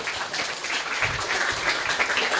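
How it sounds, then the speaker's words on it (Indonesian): Applause for a school principal at an Indonesian school talk show event in Banyuwangi, a dense steady clatter of many hands filling the room at moderate level without a break. "Tepuk tangan untuk Pak Kepala Sekolah kita ya."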